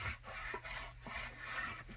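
A glued book cover is burnished by hand, a close, quiet rhythmic rubbing of repeated back-and-forth strokes with brief pauses between them.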